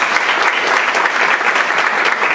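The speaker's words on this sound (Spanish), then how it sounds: "Recibámoslo con un fuerte aplauso." Audience applause at a university socio-legal research conference in a law faculty, a dense, steady clapping that fills the whole stretch at close, loud level with no talk over it.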